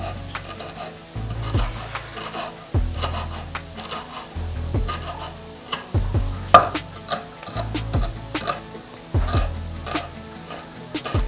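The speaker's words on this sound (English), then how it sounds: "we're going to cut our coriander into small pieces" A knife chops fresh coriander into small pieces on a board, giving a steady run of sharp, close taps in quick bursts, with faint kitchen clatter beneath and no talking.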